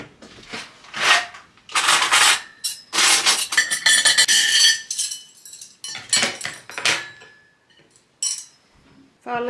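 Ingredients for tacos are chopped and dishes handled in a home kitchen: loud, close clattering and clinking of pots, plates and cutlery in irregular bursts, with short quiet gaps between them.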